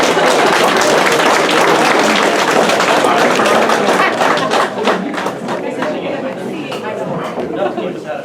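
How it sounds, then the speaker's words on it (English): A crowd applauds an EMS captain being welcomed to the podium at a Champlain-Mooers EMS banquet, with dense, loud clapping that thins toward the end, mixed with cheers and chatter. "Let's give him a round of applause, please."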